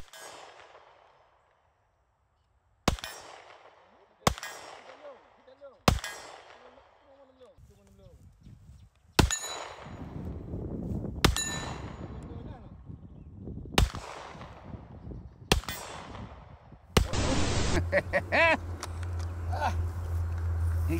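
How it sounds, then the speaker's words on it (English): Backyard range rifle shots at a target 100 yards off: about nine sharp, loud reports spaced a second or two apart, each ringing with a metallic clang and fading echo, ending in a rough wind-buffeted rumble. "He's shooting from behind a tree and gonna hit the target 100 yards away."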